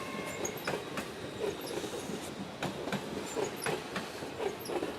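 Class 801 trains pass through Doncaster station, a steady close rumble with rhythmic wheel clicks over rail joints and occasional faint squeals, no voices.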